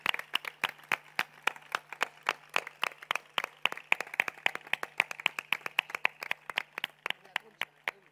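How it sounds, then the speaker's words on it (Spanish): Crisp, steady rhythmic clapping at a charity gala in Marbella, with evenly spaced sharp claps continuing without pause and no voices over them. "Un aplauso muy grande para Terelu."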